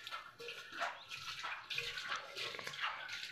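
Water splashes and trickles over an old clay water pot in short, close, uneven bursts, fairly quiet, with no voices.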